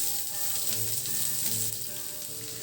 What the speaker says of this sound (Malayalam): ഇനി ഒരു പാൻ വെച്ച് ചൂടാക്കുമ്പോൾ അതിലേക്ക് വെളിച്ചെണ്ണ ഒഴിച്ച് കൊടുത്തിട്ട് സവാള ചേർത്ത് കൊടുക്കാം.